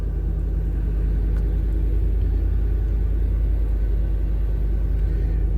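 A 1988 Chevy OBS truck engine runs after a cold start, a loud, steady low rumble close by with no talk over it.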